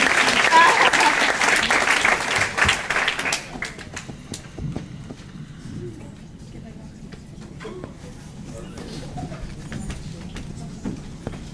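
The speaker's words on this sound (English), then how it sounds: "give another round of applause, please" An audience gives a round of applause at a live talk, loud dense clapping for the first few seconds that thins to scattered claps and rustling, with a voice speaking over the fading end.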